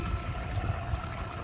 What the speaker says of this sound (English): these motors are whirring away wonderfully, powering us along